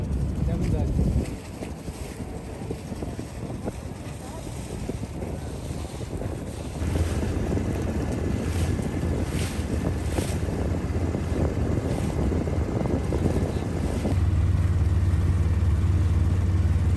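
Steady wind and engine rumble from a boat moving down a river at Varanasi, with wind buffeting the microphone and waves washing throughout.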